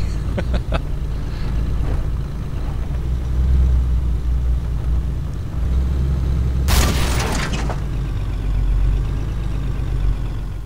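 A vehicle engine in the military game Arma 3 runs with a steady low rumble throughout, broken by a few clicks and a brief loud burst of noise partway through.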